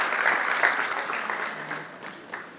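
An audience at a church ministerial training session applauds the elder brothers, with dense, steady clapping from many hands that fades slowly over a few seconds.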